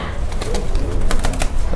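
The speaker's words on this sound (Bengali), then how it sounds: "খুবই মানে ছটফটে একজোড়া কবুতর" Satinette pigeons in a loft make restless sounds, with soft coos and bird calls mixed with scuffling and wing movement across a short, busy stretch.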